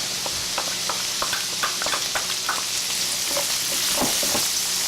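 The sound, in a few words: minced garlic and chopped parsley sizzling in pan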